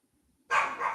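A single sharp dog bark bursts in after a moment of near silence, close and loud, with no talk.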